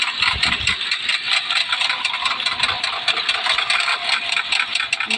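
Motorbike engine in a Bangladeshi video game, a steady buzzing drone with a rattly edge that holds loud and continuous throughout, with a brief low rumble near the start.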